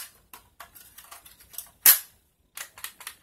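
BoomCo Halo Brute Spiker toy blaster with a clip inserted, making a string of small plastic clicks and ratchets as it is primed, then one sharp, loud snap of firing, followed by more handling clicks.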